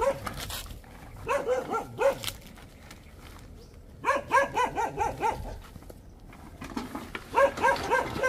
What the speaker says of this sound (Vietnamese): mấy chó nó sủa quá trời